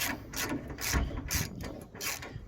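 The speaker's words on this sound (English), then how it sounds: "So just, yes, bolt these in now." Ratchet wrench tightening the fuel tank bolts on a Nissan S13, a close, rapid clicking of the pawl in several short rhythmic bursts with no talking.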